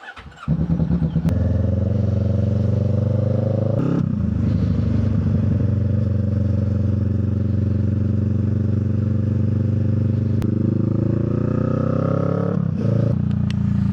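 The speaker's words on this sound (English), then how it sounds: "This is our very last start and ride of our 23 Kawasaki Vulcan." A 2023 Kawasaki Vulcan S motorcycle engine cranks, catches and settles into a loud, close, steady idle, with brief revs and a faint voice near the start.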